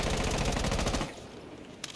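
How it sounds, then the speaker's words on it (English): Rapid automatic gunfire from Fuse's gun in Rainbow Six Siege, a dense fast burst of shots lasting about a second, then a brief clatter and a few faint echoes. "that is basically the recoil control for Fuse"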